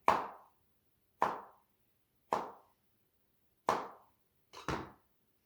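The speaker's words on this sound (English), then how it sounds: "you kind of want to chop them into slices" Five crisp knife chops through food on a cutting board, cutting thin slices for Ukrainian crepes; each stroke lands alone with a short decay, spaced about a second apart, the last one doubled.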